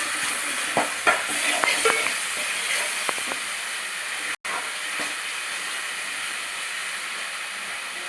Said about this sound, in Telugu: ముందుగా తయారు చేసి పెట్టుకున్న పేస్ట్ వేసేయాలండి ఆనియన్ పేస్ట్ ఫ్రై అవ్వాలండి